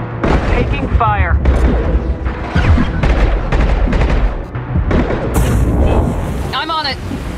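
Booming explosions and bursts of gunfire in the video game Mass Effect 2 rumble beneath nearly continuous talking, with a few sharper impacts standing out.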